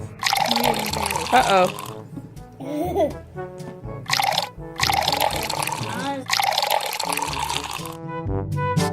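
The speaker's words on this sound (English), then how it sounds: "Yes, and now let's put the juice in." Apple juice poured over a bowl of snow for a homemade snow cone, giving a splashing, trickling liquid sound in several bursts, with children's voices chattering over and between the pours.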